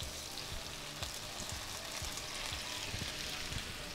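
Shrimp sautéing in olive oil in a hot pan, a steady close sizzle and crackle with occasional soft scraping stirs, no voices.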